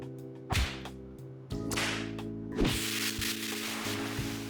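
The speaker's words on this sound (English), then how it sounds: "Okay, I heard the spray again." Hissing spray sound effects in the video game Persona 5 Tactica, three separate bursts of airy noise, each starting sharply and then trailing off, over a quiet sustained musical backdrop.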